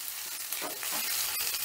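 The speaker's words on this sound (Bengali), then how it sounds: "এবার আলুটাও আমি একটু ভালো করে ভাজা ভাজা করে নেব।" Grated potato fries with green chili and asafoetida in a pan over low flame, a faint soft sizzle broken by brief stirring scrapes and clicks, with no speech.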